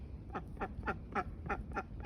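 Khaki Campbell ducks on a homestead quack in a steady series of about seven loud, close calls, roughly evenly spaced, with no talking.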